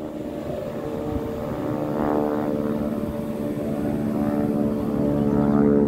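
A Pitts biplane flying overhead at an airshow, its propeller engine a loud, steady droning roar that swells gradually as it passes, with no talk over it.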